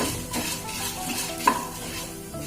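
Masala for capsicum rice frying in a pan, with a soft sizzle, a few stirring scrapes and one sharp utensil clink against the pan.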